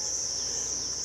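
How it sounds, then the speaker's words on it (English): A jumping, spitting cricket in the hill country around Mae Salong, Thailand, gives a steady, shrill, unbroken trill close by, loud and alone with no voices. "So poisonous, highly poisonous cricket."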